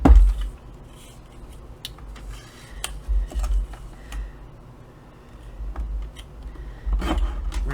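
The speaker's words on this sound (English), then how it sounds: "And then we are going to use our scissors" Scissors cutting a paper strip for a traveler's notebook insert, with a few crisp snips and small metallic clicks close by over a quiet room.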